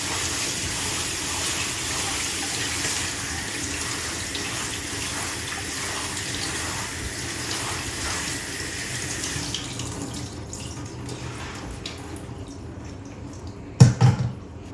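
Spinach is washed under a running kitchen tap, a steady splashing water stream for about ten seconds that then stops, followed by quieter drips and a brief clatter near the end, with no speech.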